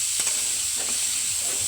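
Tomatoes and onion frying on a low gas flame give a steady, close sizzle with faint stirring taps scattered through it, and no voices.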